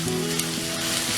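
Garlic and mixed vegetables sizzling in a frying pan over low heat, a steady, close crackling hiss with a faint stirring scrape and no voice.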